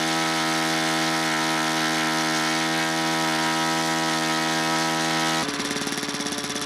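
A small two-stroke engine on a U-control model aircraft idles with a steady buzzing drone, then the note shifts abruptly near the end, heard alone and close.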